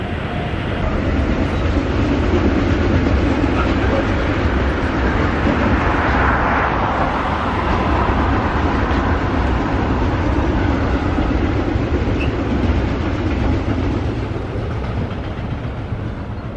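Passing trains on the Rhine railway line, an ICE high-speed train and a freight train, make a loud, continuous rushing roar with rolling wheel noise that swells slightly midway, close by, with no talk.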